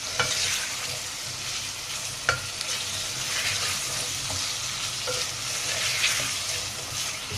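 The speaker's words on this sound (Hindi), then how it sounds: "अच्छी तरह से भूनना है तब तक ये हमारे आलू" Potatoes sizzle and fry in a pan for Indian aloo sabzi, with a steady crackling hiss broken by occasional scraping clinks as the mixture is stirred.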